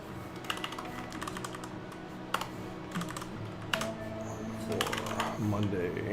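Keys on a computer keyboard clatter in quick irregular bursts, fairly close and moderately quiet, with short pauses between runs over a low steady background hum.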